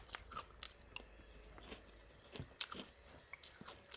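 Crunchy Monster Energy-flavoured cereal being chewed close up, a run of short crisp bites and crunches repeating irregularly over a few seconds with no talking.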